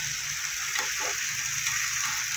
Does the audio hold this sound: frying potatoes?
yes